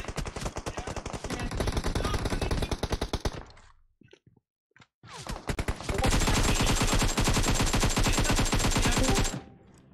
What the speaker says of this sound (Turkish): Solda tepede vuruyor bak.